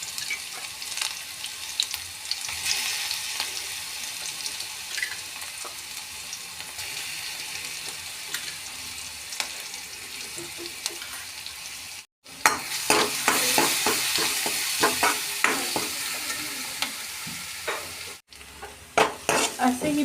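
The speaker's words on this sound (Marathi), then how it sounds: "असे ही पेस्ट आपली भाजली जाते आहे" Garlic, ginger and green chili paste frying in a pan, a steady close sizzle with occasional spoon scrapes, then a louder, crackling burst of frying in the second half.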